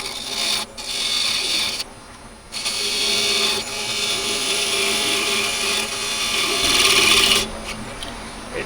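A wood lathe runs steadily, with a rasping, scraping cut as a tenon is turned off a multi-tiered lidded box, a continuous close grinding rush broken by a couple of brief pauses.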